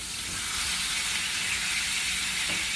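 A steak sizzles loudly and steadily in a hot pan, a dense continuous hiss with no talking.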